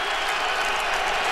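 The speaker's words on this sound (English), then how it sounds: "Third down, crowd on its feet." A dense, steady roar from a stadium crowd on its feet at a 2010 Ravens at Patriots NFL football game on third down, loud and continuous throughout.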